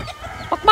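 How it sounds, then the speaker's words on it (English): Chickens and baby chicks on a farm give brief, close clucking calls, with a quick burst near the end of a very short moment and no voices. "Look at the little baby chicks here."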